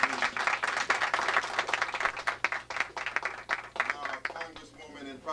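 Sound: audience applause

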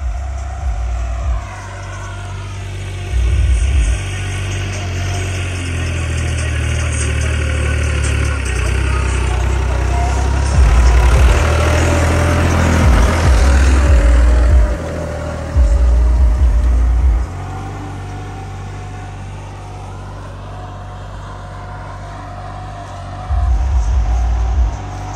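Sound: tractor engine working in a field

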